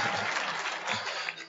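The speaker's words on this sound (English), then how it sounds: "Clap hands for me." A church audience claps hands, a dense, steady wash of applause that carries on throughout without a break.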